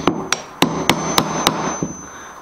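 Hammer blows drive a chisel into wood on a bowl carving clamping jig, about seven sharp, evenly spaced strikes, close and clear with no talking.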